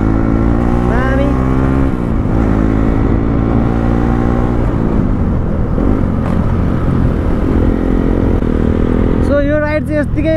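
A group ride of motorcycles on a road comes through as a loud, continuous engine drone that rises and falls with changes in revving. Voices and other noise sit over it, with a sharper, whining burst near the end.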